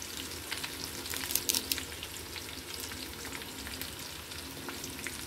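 Curry leaves and onions crackle and sizzle in hot tempering oil for a spinach and moong dal dish, a steady close hiss with sharper spits and pops bunched near the start.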